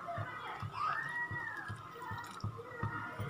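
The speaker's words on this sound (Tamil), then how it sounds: "அதனால் மறுபடியும் 500 ml தண்ணி நாங்கள் இதில் ஊற்றுறோம்." About 500 ml of water pours into a cooking pot of raw rice and palm jaggery porridge, a soft continuous splashing trickle with light knocks close by.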